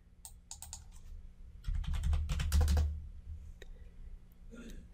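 Fingers type a check amount on a computer keyboard while entering data into cash management banking software, producing bursts of quick, close clicking keystrokes with short pauses between them.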